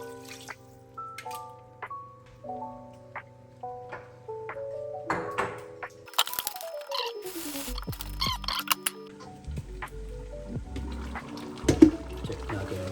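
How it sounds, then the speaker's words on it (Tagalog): Water poured into a pot of goat caldereta already holding pineapple juice, bell pepper, salt and pepper: a short splashing pour midway, preceded by clear pinging tones and followed by low rumbling and bubbling. "Lagyan na natin ng tubig."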